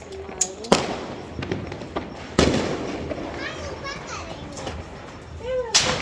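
Sparklers and firecrackers lit at a home Diwali celebration, with several sharp cracks and fizzing bursts popping over a steady din of children playing and chattering nearby.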